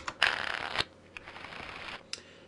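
A deck of cards riffled and shuffled in a Battlegrounds Gaming Engine dungeon deck demo: a loud, dense shuffle burst up front, then a softer, longer riffle and a brief final snap, with no talking.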